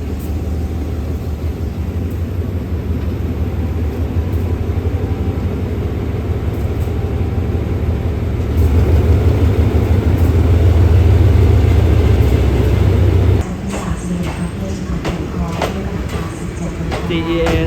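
An SRT Sprinter diesel railcar, rapid train 997, pulling into a station platform: a steady low engine drone builds and swells, then cuts off abruptly, leaving station ambience with voices talking.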